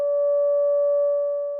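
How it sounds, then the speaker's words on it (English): A pure, steady electronic sine wave tone holds at one pitch for under two seconds, clean and unwavering, then fades slightly at the end. "compared to our sine wave input"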